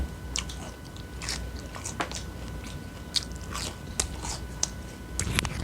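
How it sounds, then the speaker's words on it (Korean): Crisp, crunchy bites and chewing of cheese balls up close, a string of sharp crackles every second or so, with no talking. "아, 아, 여러분, 아삭하는 소리 들리죠?"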